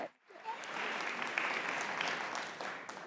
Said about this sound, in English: let's bring up Leah with a warm round of applause.